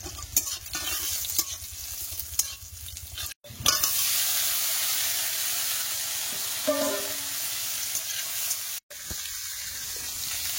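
Whole spices and chopped onion hit hot oil in a Bengali home kitchen, giving a loud, steady sizzle with stirring scrapes, a brief cut-out near the start and a later gap.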